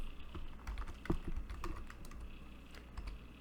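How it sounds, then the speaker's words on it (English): Fast keystrokes on a computer keyboard click in an irregular run, close and moderately loud, while someone sets up a project in a game engine's settings. "Type Paper 2D in the search bar."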